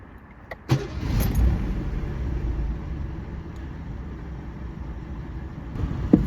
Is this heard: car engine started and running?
yes